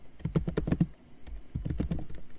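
Fast bursts of typing on a computer keyboard, a quick flurry of close, soft clacks, a brief pause, then a second run of keystrokes, with no voice over them.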